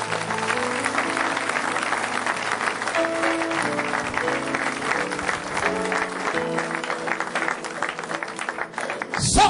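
A church congregation at a deliverance service applauds in sustained, dense clapping that fills the whole stretch, with music sounding underneath.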